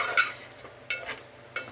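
Spicy mutton curry with garam masala being stirred in a pan, a few soft separate scrapes and faint sizzling in quick bursts, quiet and close with no talk.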